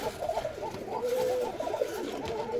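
Pigeons, a pair with a heavily feather-footed male, coo softly and close by in a run of repeated, rolling coos.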